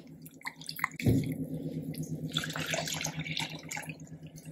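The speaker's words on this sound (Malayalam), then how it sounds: "1 കപ്പ് വെള്ളം ഒഴിച്ചു." A cup of water is poured into a kadai holding ground masala for paneer curry. A splash sounds near the one-second mark, then a steady trickling, bubbling pour follows close up over a low continuous hum.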